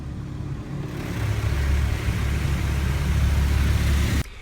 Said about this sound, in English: I'm in a touchless car wash right now because my car is filthy.